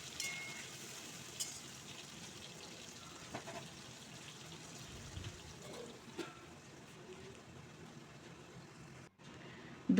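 Potatoes and shrimp cook in a covered kadai, giving a quiet, steady sizzle with faint crackles and occasional soft clinks, low and even throughout.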